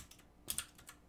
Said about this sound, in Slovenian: Mehansko tipkovnica.